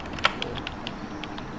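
Someone types on a computer keyboard, a few sparse key clicks with one sharper tap early on, close and fairly quiet over steady room noise.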